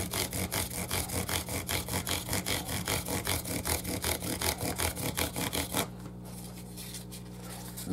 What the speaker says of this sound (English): A little bit different part of our sandpaper there. Go back and forth, back and forth.